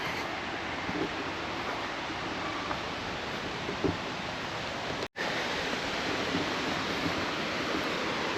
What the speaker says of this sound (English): Hope they're not falling off the waterfall, because I can hear it.